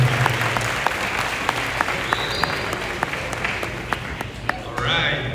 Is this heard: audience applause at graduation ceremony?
yes